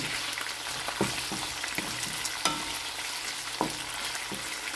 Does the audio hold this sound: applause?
no